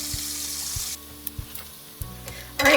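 Bacon sizzles and spits steadily in a frying pan, a close, constant frying hiss with a few small pops and clicks throughout, no voices.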